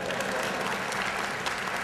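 Dense, steady applause from an audience at a skeptics' conference lecture, a close, continuous wash of many hands clapping with no voices above it.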